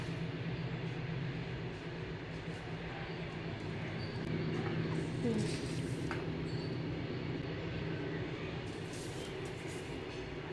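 A train rumbles past steadily for several seconds, a low continuous rolling drone with rhythmic clatter of wheels, fairly distant and even in loudness.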